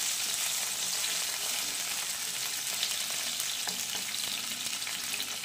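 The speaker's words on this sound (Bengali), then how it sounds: "সেই আলু ভাজতে দিয়ে দিলাম তেলের মধ্যে।" Long strips of potato frying in hot oil in a home kitchen, a continuous dense sizzle holding steady and close throughout, with no voices.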